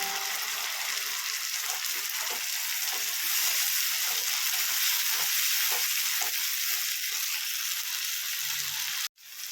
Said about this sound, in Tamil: அப்புறம் நம்ம அரைச்சி வச்ச தக்காளி பேஸ்ட் அதையும் போட்டு நல்லா கலரிடலாம்.